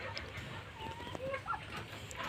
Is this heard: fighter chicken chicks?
yes